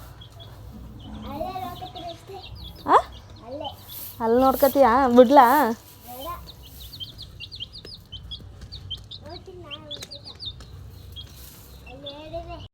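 Chickens cluck close by at a family home: scattered calls, then a loud run of squawking clucks in the middle, mixed with faint bird chirps while people talk.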